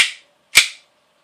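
Two sharp metallic clacks from an airsoft pistol's slide being racked back and released, close and crisp, about half a second apart.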